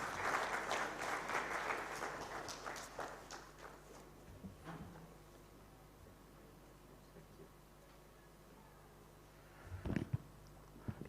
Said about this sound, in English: Let's give the director, our guest of honor, a bigger clap